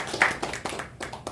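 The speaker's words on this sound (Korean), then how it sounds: "우리 다 같이 설 새해에 우리 서로 인사하는 의미에서 큰 박수 한번 쳐볼까요?" A group of members clapping together at a Rotary club's regular meeting, a short burst of close hand claps with brief uneven taps.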